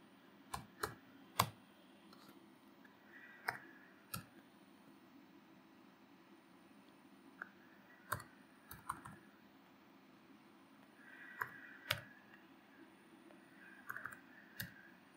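Keys on a computer keyboard are tapped out to enter a labour card number, giving sparse, irregular clicks in short bursts over a quiet background hum.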